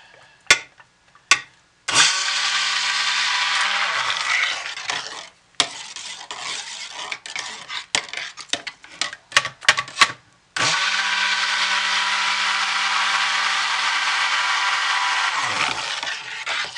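A stick blender whirs in bursts through a batch of soap batter as it is brought to emulsification, two long steady runs separated by short pulses and clicks, loud and close, with no talking.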